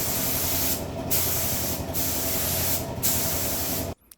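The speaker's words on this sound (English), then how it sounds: "And another layer of clear coat." A spray gun lays clear coat onto a Golf MK2 GTD's paint in a steady, close, loud hiss, cut by three brief pauses between passes and stopping abruptly near the end.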